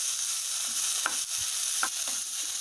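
Sliced radish sautéing in a pan for mullangi chutney, a soft steady frying hiss with a few brief stirring scrapes of the spoon against the pan, close by and with no talking.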